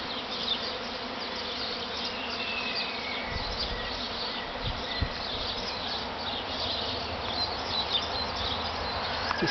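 A large honey bee swarm drifts in from a neighbouring kiwi fruit orchard onto a veranda, its thick continuous hum steady throughout, with occasional closer bees flying past.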